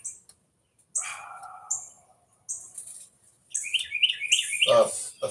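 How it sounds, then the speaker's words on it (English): A small bird nesting in the corner of a screened-in porch chirps in quick bursts of bright, high tweets, close by, with quiet gaps between calls and a busier run of chirping near the end. "One of them little birds has built a nest right here in the corner"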